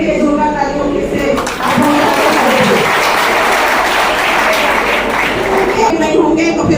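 A political rally audience in Ulhasnagar breaks into loud, sustained applause that swells after a brief lull, with a speaker's voice mixed in beneath the clapping.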